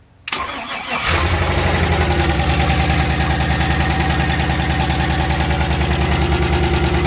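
A turbocharged LS V8 swapped into a Ford Festiva cranks and catches, then settles into a loud, steady, lumpy idle with a rhythmic grumble that runs close and continuous to the end.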